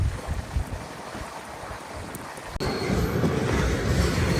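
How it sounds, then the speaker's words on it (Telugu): A goods train overtaking the moving Guntur–Rayagada Express: a windy rail rumble that swells midway into a louder, close, continuous roar of passing wagons. "ఇంకొక గూడ్స్ ట్రైన్ అయితే ఓవర్టేక్ చేస్తుంది మన ట్రైన్."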